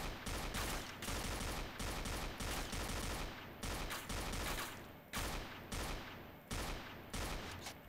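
Rapid automatic gunfire in bursts in the video game Point Blank, steady rattling volleys with short gaps between them, loud and continuous with no voices.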